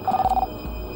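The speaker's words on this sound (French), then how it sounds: "Je téléphone à Lee et à Tony." A telephone rings on a call, a short trilling electronic ring burst followed by quiet, heard alone without talk.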